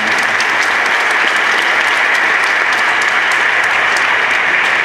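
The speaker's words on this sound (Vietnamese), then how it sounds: "Chúng ta cùng dành một tràng pháo tay tạ ơn Chúa," Loud, dense applause from a church congregation at a Catholic Assumption feast day Mass with a women's choir, a continuous even roar of clapping filling the whole stretch.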